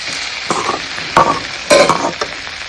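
Vegetables sizzle in a hot pan, stirred with a few scraping strokes, the frying hiss steady and close.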